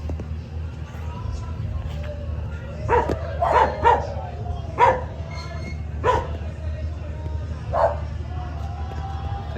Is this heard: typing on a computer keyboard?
no